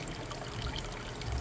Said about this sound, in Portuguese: E bacana, fizeram a cachoeirinha aqui.